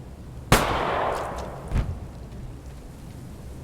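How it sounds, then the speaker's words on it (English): A single loud Glock shot in the VR game Blood Trail VR cracks and rolls off into a long echoing tail, followed by a softer thump and another sharp shot at the end. "I love the sounds they added for the Glock. You can tell it's an actual gun."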